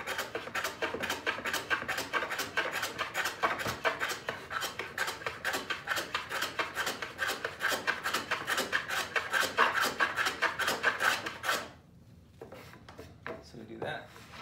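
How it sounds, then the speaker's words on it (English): A utility knife carves a relief on the back of a length of wood trim, a quick even series of rasping scrape strokes repeated for about twelve seconds, then a few slower scrapes after a brief pause. "I'm just kind of cutting a little relief on the backside"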